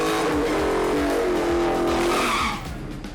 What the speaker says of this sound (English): Let's race. Ooh, I guess somebody wants to race.